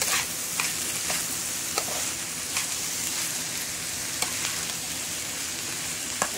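A spice mixture fries in a pan with a steady, even sizzle throughout, and occasional light taps and scrapes mark slow stirring.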